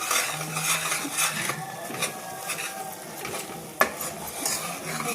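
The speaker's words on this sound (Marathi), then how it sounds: "हे पुन्हा हलवून घेते आहे." Roasted besan being stirred with sugar syrup in a pan on a lit gas stove, with a steady scraping, swishing stir over a faint sizzle and an occasional sharp clink of utensil against pan.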